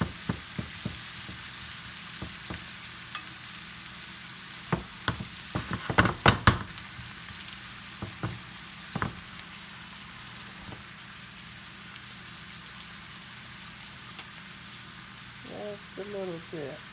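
Potatoes, turkey bacon and vegetables fry quietly in a pan, a soft steady sizzle broken by scattered scrapes and clatters of stirring, busiest midway, with a brief voice near the end.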